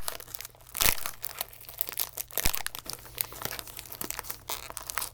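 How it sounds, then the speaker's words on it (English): Crinkly plastic wrapping of a sealed Japanese candy package, a cookie pillow with chocolate inside, is torn and crumpled open, with close, irregular crackles and a couple of sharper rips across the few seconds. "I'm getting good at opening these type of packages"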